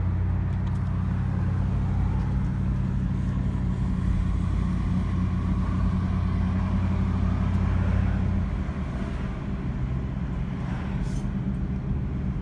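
Freeway traffic on the 10 in Los Angeles at rush hour makes a steady, dense road roar of passing cars, heard continuously from nearby. A low engine hum runs throughout, with no talking.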